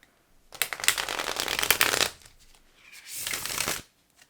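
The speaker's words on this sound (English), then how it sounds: "that was a good on-screen shuffle" Tarot cards being shuffled by hand in two bursts, a long riffling run followed by a short pause and a second briefer shuffle, close and fairly loud with no voices.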